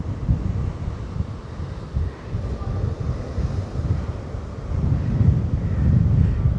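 Strong wind buffets the microphone over choppy sea surf at Great Yarmouth's Britannia Pier in September, a continuous loud low rumble with gusty swells that grow heavier toward the end, and no voices.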